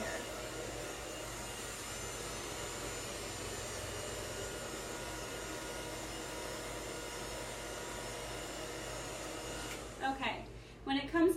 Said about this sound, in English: hold the blow dryer by the handle, round brush in my left hand to do my right side